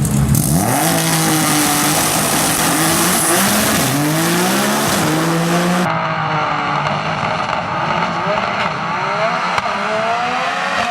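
Nissan GT-R drag cars roar loudly through a race run, engines revving hard with rising and falling gear-shift tones and a brief tire squeal, the sound continuous and close for the whole stretch, no talk.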